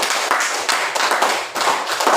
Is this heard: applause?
yes